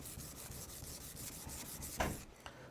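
A Fujiwara kitchen knife is drawn back and forth along its bevel on a whetstone, giving a steady rhythmic gritty rubbing of close, moderate strokes that ends in a couple of sharper scrapes.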